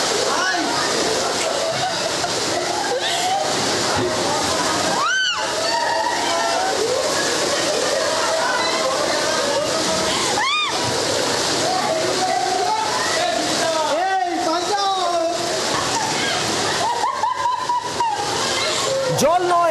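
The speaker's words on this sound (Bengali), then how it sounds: "জল নয়, জলের স্রোত বইছে, একেবারে প্রবল স্রোত পিয়ারলেস হাসপাতালের ভিতরের এই ছবি" Strong floodwater current rushes through the inside of a hospital in Kolkata, a loud, continuous roaring slosh with occasional swishing surges, heard close and steady throughout.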